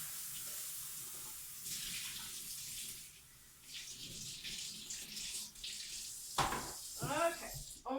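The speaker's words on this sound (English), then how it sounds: "let me rinse this out just a second" Water runs from a tap in a steady hiss while a container used for soap making is rinsed out, with sloshing and splashing rising toward the end, close by.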